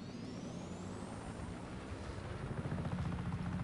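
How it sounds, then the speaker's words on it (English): A helicopter in the Just Cause 3 video game thrums with a low rotor drone that grows louder and rougher toward the end, heard fairly faintly with no speech over it. "Crashed the helicopter into it."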